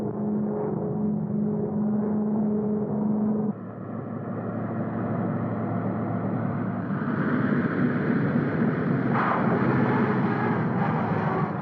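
A propeller airplane of the early 1950s comes in to land at San Francisco airport, its engines droning as a loud, steady roar that shifts pitch partway through.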